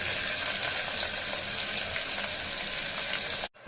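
Onion frying in hot oil with curry leaves and garlic in a pressure cooker on a gas stove, giving a dense, continuous hiss close by that stops suddenly at the end.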